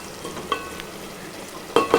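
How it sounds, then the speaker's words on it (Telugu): Bagara rice, spiced Hyderabadi rice, bubbles and simmers quietly in a pot as it is gently stirred, with a low steady hiss, a faint clink near the start and two sharper scrapes of the spoon near the end. "బగారా రైస్ ఉడుకుతుంది. మెల్లగా కలుపుకోవాలి."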